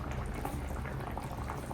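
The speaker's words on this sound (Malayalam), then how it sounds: "മീൻ അതിൻ്റെ ഉള്ളിൽ കിടന്ന് തിളച്ചോളും" Carp curry with masala simmering in coconut oil gives a close, steady bubbling boil that stays even and continuous throughout.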